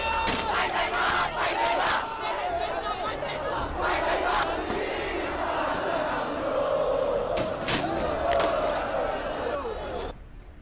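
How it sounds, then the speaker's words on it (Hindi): Thousands of young Gen-Z protesters on Kathmandu streets, a large crowd chanting and shouting in loud, continuous surges with repeated rhythmic bursts of massed voices, close and dense throughout. "हजारों की संख्या में युवाओं की ये भीड़ हाथों में विरोध का पोस्टर लिए सरकार के खिलाफ खुलकर अपनी आवाज बुलंद कर रही है"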